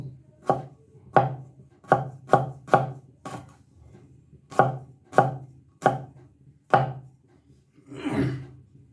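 Fresh ginger is chopped with a knife on a board for ginger tea, about a dozen crisp, distinct chops with short irregular gaps, close and clear, followed by a softer scraping sound at the end.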